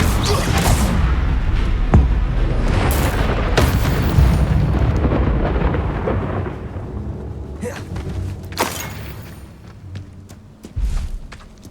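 Confringo and Incendio spell blasts fire in Hogwarts Legacy as a dense, continuous roar of booming bursts and crackling fire. Sharp hits break through near the end, with a voice shouting over the din.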